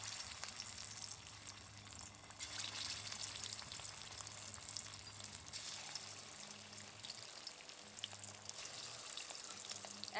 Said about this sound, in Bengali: কাঁকরোলের প্যাটিগুলো এবার ভেজে নেব